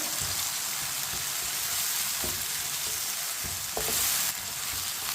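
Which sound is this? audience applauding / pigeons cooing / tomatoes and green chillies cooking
tomatoes and green chillies cooking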